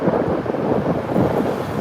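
Strong mountain wind roars steadily and loudly against the microphone, a continuous dense rumbling gust with no talking.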